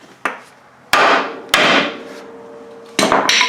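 A hammer strikes a steel ball joint on a car suspension to drop it out, four sharp metallic blows in uneven rhythm with ringing decay after each, loud and close with no talk.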